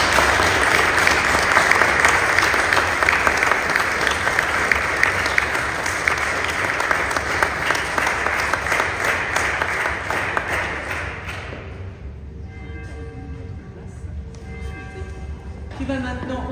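A Protestant congregation applauds during a Sunday confirmation service in church at Mertzwiller, loud sustained clapping for about eleven seconds that stops abruptly, followed by a quieter room with faint tonal sounds.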